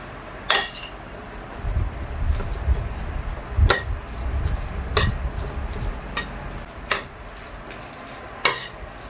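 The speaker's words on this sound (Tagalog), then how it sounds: "Haluin natin ito hanggang sa mag-combine ang lahat ng ingredients." Sandwich ingredients are stirred together in a bowl with a spoon. Several sharp clinks ring out against the bowl over a soft, scraping mixing sound.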